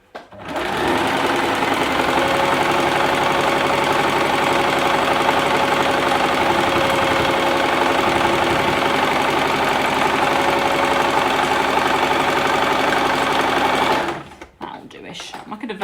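A sewing machine runs steadily, stitching a foundation paper pieced quilt top with a house block, a loud continuous mechanical whir lasting about fourteen seconds before it stops abruptly.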